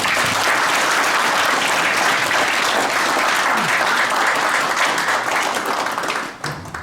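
Audience at a Buddhist forum gives a loud, dense burst of applause, many hands clapping close and continuous before tapering off at the end.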